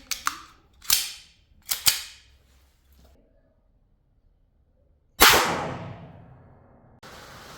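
Blank gun firing heavy 6mm steel BBs: sharp loud close cracks, three quick shots early, then a pause and a louder bang with a lingering ringing tail, followed by a brief noisy burst.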